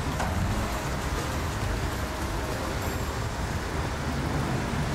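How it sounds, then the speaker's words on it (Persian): Rain falling outdoors on a street during a Chaharshanbe Suri outing in Turkey, a steady hiss of rain mixed with passing traffic and road noise, constant and fairly close. "همونجور که میبینید بارون هم شروع شده."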